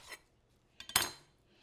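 A knife cuts the root end off a yellow onion with a short, soft slice, followed by a clack of the blade on the cutting board, close and quiet in an otherwise hushed kitchen.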